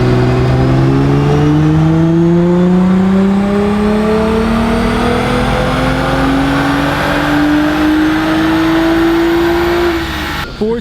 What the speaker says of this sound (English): Bringing the car, having it on the dyno, seeing what it's capable of.